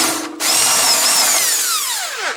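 A power drill spins out the last bolt on a washing machine being taken apart, a loud continuous whir after a brief pause, its pitch sweeping down steadily as the motor winds off.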